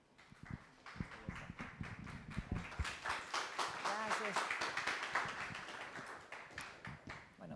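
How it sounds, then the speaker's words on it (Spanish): Audience applause welcoming a speaker onto the stage at a circular-economy festival in Latin America: a sustained wash of many hands clapping that builds, peaks in the middle and tapers off, with faint voices underneath. "Recibámosla con fuertes aplausos"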